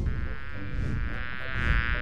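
A cartoon bee gives a loud, steady, close buzz that drones on without pause, swelling slightly in places.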